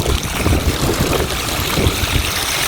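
Irrigation water runs through channels in a Gujarati farm field of groundnut and cotton, making a continuous, close rushing and gurgling that stays steady throughout and has no voices over it.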